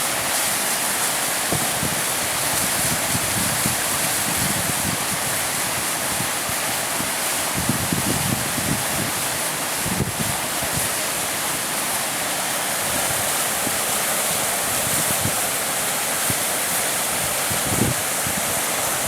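Creek water rushing steadily at a Civil War battlefield park, a broad continuous wash of flowing water with occasional low rumbles, fairly loud and close, without any talking.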